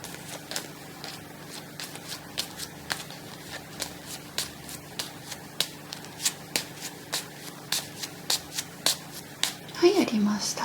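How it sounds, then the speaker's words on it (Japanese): Tarot cards are flipped over by hand one after another, a series of crisp, close card snaps in an irregular rhythm, with a brief rustle near the end. "カードを裏返しにしていきます"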